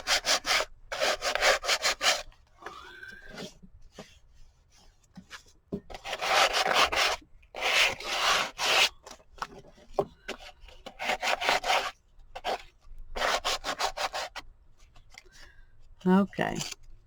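Abrasive rubbing as a mixed media board is roughened by sanding, coming in repeated bursts of scratchy strokes separated by brief pauses, close and fairly loud.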